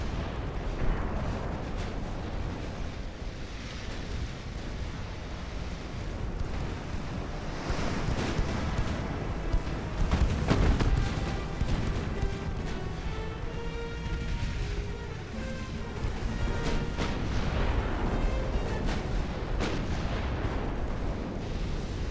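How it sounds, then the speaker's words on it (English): Rumbling naval battle from Ultimate Admiral: Dreadnoughts with 1890-era warships, dense booming blasts and gunfire rolling continuously, with a heavier explosive surge near the middle, loud and sustained throughout. "That's a torpedo detonation."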